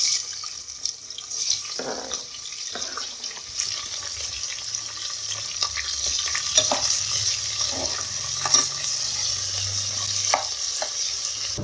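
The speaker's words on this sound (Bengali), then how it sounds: "নিয়ে ওর মধ্যে পেঁয়াজ কুচোনো আছে সেটা দিয়ে দেবো, দিয়ে ভাজবো" Whole garam masala and chopped onion fry in hot oil for mutton kosha, crackling steadily with scraping stir strokes and occasional louder pops, close and unvoiced.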